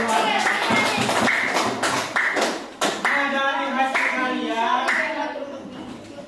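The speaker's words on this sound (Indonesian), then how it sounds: "Tepuk tangan untuk kelompok" Classroom applause for a student group after their presentation, a burst of many hands clapping that fills the room, with a teacher's voice speaking over it and continuing as the clapping fades.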